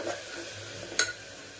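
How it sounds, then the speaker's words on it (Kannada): A ground masala paste fries in a pan while being stirred, a soft sizzle with scraping and one brief metallic clink of the spoon against the pan, heard close and with no talk. "ಇದನ್ನು ಹಾಕಿ ಚೆನ್ನಾಗಿ ಹಸಿ ವಾಸನೆ ಹೋಗೋವರೆಗೂ ಇದನ್ನು ಚೆನ್ನಾಗಿ ಫ್ರೈ ಮಾಡ್ಕೊಳ್ಬೇಕು."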